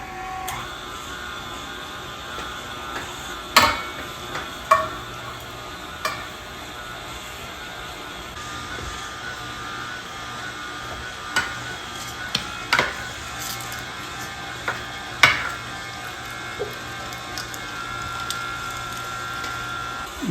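A meat grinder finely grinding Guinness corned beef for sausages: a steady, even motor drone running throughout, broken by occasional sharp knocks and clacks up close.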